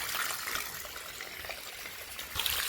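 Water trickles and splashes steadily as it collects in a household tank or basin, a close, continuous hiss with a brief louder gush near the end.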